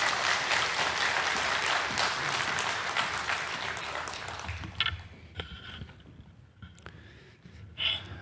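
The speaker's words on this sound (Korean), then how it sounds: "박수로 목사님 맞이하시겠습니다." Church congregation at a revival service applauding to welcome the pastor, a dense burst of clapping that fades after about five seconds into a quiet room with a few isolated noises and breaths.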